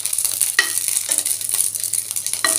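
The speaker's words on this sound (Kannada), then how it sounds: "ಇದನ್ನು ಚೆಂದಾಗಿ ಹುರ್ಕೊಂಡು ಇದ್ರ ಮ್ಯಾಗ ಸ್ಪಾಟ್ಸ್ ಬರಂಗೆ ಹುರ್ಕೋಬೇಕ್ರಿ." Green chillies fry in a pan for a raw tomato chutney, sizzling steadily and loudly up close while a spoon scrapes and stirs in a few distinct strokes.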